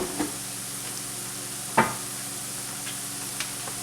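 Peeled, deveined shrimp and purple onion frying in a pan, a constant close sizzle with a few brief utensil clicks, one sharper knock near the middle.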